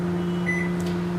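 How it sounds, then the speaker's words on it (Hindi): A microwave oven in convection mode, being set to bake nankhatai at 160 degrees, gives a close, steady electrical hum with a low, even drone throughout. "तो चलिए इसको रख देते हैं माइक्रोवेव में।"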